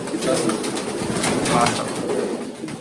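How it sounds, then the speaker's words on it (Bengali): Pigeons coo softly and repeatedly in an enclosed space, with a low murmur of voices in the background. "সব মিলে কতগুলো কবুতর হবে এখানে"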